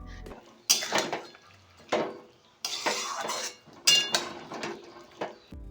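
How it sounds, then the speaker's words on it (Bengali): A spatula stirring a Bengali vegetable curry with fish head in a metal pan, sounding as several separate bursts of scraping and clanking against the pan, close and loud with short pauses between strokes. "এবার শুধুমাত্র কাজ হচ্ছে সবজিটাকে ভালো করে খুন্তি দিয়ে নাড়তে হবে, অনবরত নাড়তে হবে"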